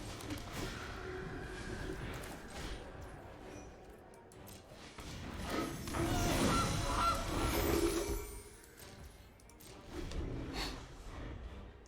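Goose honks from the Gilded Goose card in the MTG Arena video game, several faint honking calls spread over a dozen seconds beneath other game sounds.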